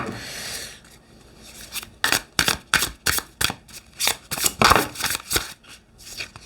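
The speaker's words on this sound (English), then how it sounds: "Let me just make sure that this is shuffled." Tarot cards riffle and snap together in a quick series of crisp bursts, close and fairly quiet, following a soft rustle.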